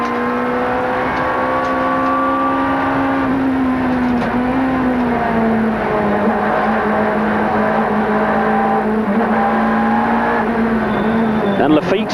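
1995 Supertouring race cars at Paul Ricard work through a tight chicane, engines howling loudly as they brake and pitch down and then accelerate, with overlapping cars and a race commentator talking over the noise.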